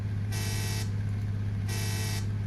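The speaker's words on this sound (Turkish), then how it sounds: "Korna sağlam ötüyor." Two short tractor horn honks in a truck simulator video game sound over a steady low engine drone, separated by about a second of idling rumble, with nobody speaking.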